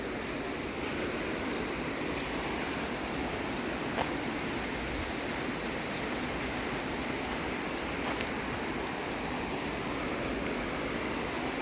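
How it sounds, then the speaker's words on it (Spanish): Floodwater from an overflowing river rushing over sandbags, a steady loud wash of churning water with no letup, heard outdoors without talk. "Miren, el agua ha rebasado las bolsas de arena."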